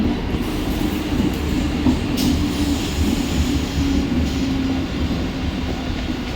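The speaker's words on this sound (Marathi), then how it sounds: "प्लॅटफॉर्म क्रमांक 3 पर आई हुई लोकल 10:33 की बदलापुर जाने वाली तेज लोकल है" A Mumbai suburban local train bound for Badlapur rumbles steadily alongside platform 3, with rolling wheel noise and a faint metallic squeal, no voices.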